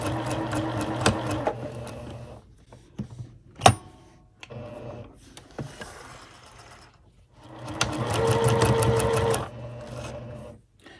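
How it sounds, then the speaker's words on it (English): A sewing machine runs a quilt seam with a quarter-inch foot, in quick whirring bursts of stitching at the start and again near the end, with a sharp clack and quieter mechanical handling between. "And then I'm just going to stitch."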